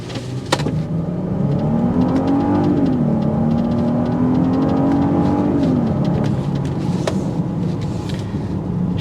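A 2024 Genesis GV80 Prestige twin-turbo SUV pulls away from a complete stop, its engine note climbing steadily and then easing back as it gathers speed, loud and continuous with no talking.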